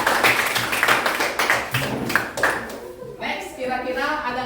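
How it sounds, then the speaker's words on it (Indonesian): A small group claps in a classroom lesson, a few seconds of scattered, near hand claps over a low hum, giving way to quieter murmuring. "Kasih tepuk tangan"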